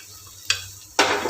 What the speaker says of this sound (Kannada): ಹಾಕಿ ಅದನ್ನು ಗೋಲ್ಡನ್ ಬ್ರೌನ್ ಆಗೋವರೆಗೆ ಫ್ರೈ ಮಾಡಬೇಕು